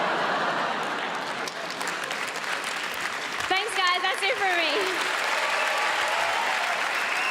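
An audience at a comedy grand final applauds and cheers steadily after a stand-up set, the clapping continuing under a performer's brief closing words.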